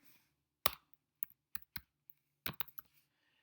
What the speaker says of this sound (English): So once you got that, you can start typing in the address.